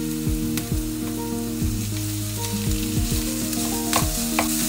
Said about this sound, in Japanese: ひき肉を入れていきます。